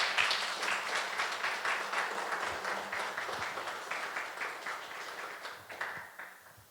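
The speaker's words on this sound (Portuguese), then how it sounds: "a gente aplaude a Jesus" A church congregation applauding, a fairly soft, steady patter of many hands clapping that carries on and gradually fades toward the end.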